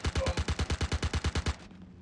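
Rapid automatic gunfire from a weapon in the space game Star Citizen during a boarding action, about fifteen evenly spaced shots in a steady burst lasting roughly one and a half seconds, then a brief fading tail.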